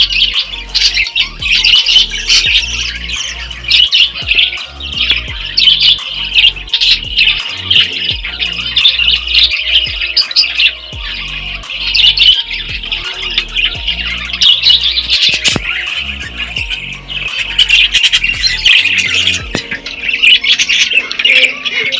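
A flock of pet birds kept in an enclosure warmed by 100-watt bulbs squawks and chirps loudly and continuously up close, a dense chatter of overlapping shrill calls with no talking.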